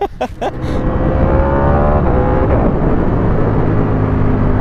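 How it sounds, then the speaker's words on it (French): A Porsche V4S engine with a shifter revs hard and loud, a few sharp bursts opening into a sustained high-revving roar that fills the rest of the clip. "quand tu as un moteur qui respire la santé comme celui-ci et qui fait des gros pafs à l'échappement"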